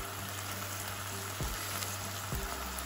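Sweet and sour fishcake sizzles and fries steadily in a hot pan, a continuous close crackle with a couple of soft clinks or stirs, and no talking.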